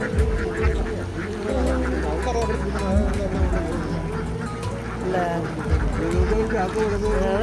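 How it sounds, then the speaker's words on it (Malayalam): A large flock of ducks feeds in a flooded paddy field at a duck-rearing area near Piravom, Kerala. Repeated quacking and chatter overlap continuously at close range, and people talk over the birds. "പാടം മുഴുവൻ താറാക്കളാണ് അവർ തീറ്റ തിന്നാൻ വന്നേക്കണം"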